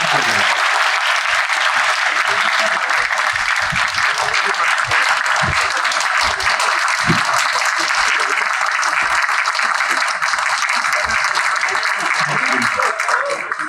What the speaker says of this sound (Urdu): آپ سب کی بھرپور تالیوں میں میں دعوت خطاب دینا چاہتا ہوں ہیڈ آف لاء ڈپارٹمنٹ جناب